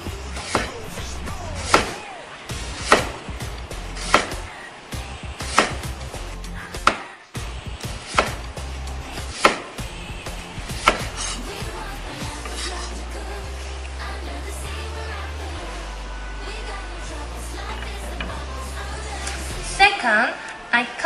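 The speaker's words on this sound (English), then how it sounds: "First, I will cut the sweet potatoes. This method is slice." Knife slicing sweet potatoes on a cutting board, a series of sharp, evenly spaced chops roughly every second, close and clear, with a low background hum and no talk.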